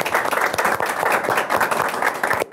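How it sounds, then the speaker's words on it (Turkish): A crowd claps steadily in a dense burst of applause that fills the whole moment, then drops off abruptly right at the end. "Alkışlar Çağrı Ergün'e gelsin."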